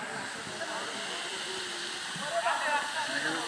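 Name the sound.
Madhabkund waterfall, Sylhet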